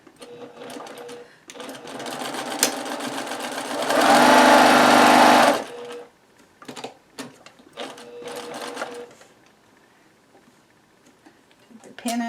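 Sewing machine stitching a 1/2 inch seam on fabric with a back tack: a steady mechanical whir runs several seconds, surges briefly faster, then stops, with short bursts and clicks and a voice speaking between them.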